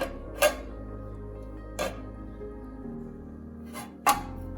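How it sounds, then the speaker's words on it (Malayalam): Metal lid and utensils on a cooking pot of Kerala olan, a few sharp clinks and knocks spaced apart, close and alone with a low background hum. "ഇനി ഇത് മൂടി വെക്കാം."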